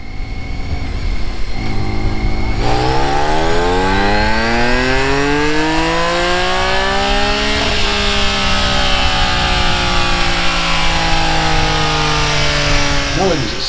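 A BMW K1600 GT motorcycle's six-cylinder engine revs hard on a dyno, rising in pitch and holding at a loud, steady wail, then easing off briefly before climbing again.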